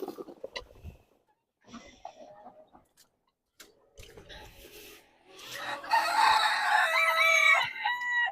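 Chickens cluck in short scattered bursts around a farm yard during feeding chores, then a rooster crows loudly and close in a long drawn-out call near the end.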